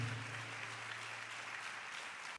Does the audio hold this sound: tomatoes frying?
no